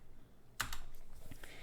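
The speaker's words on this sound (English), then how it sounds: "let's initialize a new npm project by typing npm" Keystrokes on a computer keyboard as an npm init command is typed for a Node.js project, a short burst of a few close, quiet clicks starting after a brief pause, with no talking.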